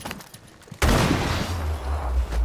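Rainbow Six Siege gunfire: after a quiet stretch, a sudden loud burst erupts and sustains as dense, booming rapid fire that rumbles heavily in the lows to the end.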